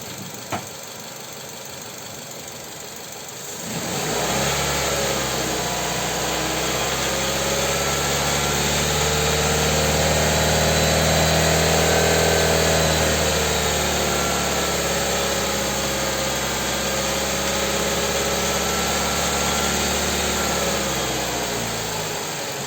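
A Nissan Tiida engine idling as it warms up to operating temperature, starting after a few seconds of quiet and then running as a steady, close, continuous hum with a high whine and a slight swell midway.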